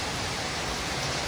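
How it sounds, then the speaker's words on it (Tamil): Heavy rain pours down steadily during a storm with a power cut, a dense, even hiss with no distinct thunderclap standing out. "இடியுடன் கூடிய மழை"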